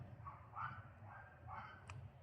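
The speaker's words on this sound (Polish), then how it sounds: "Ale tym szczekaniem psa nie dziękuję." A dog barks a few times in the distance near a garden where dahlias are being planted, the faint yaps coming in a short irregular series over low background noise.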